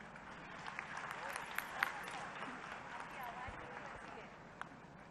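An audience at a women's self-help group event in Bhopal, Madhya Pradesh gives faint, thin applause after a song, with scattered soft claps continuing for several seconds at low volume.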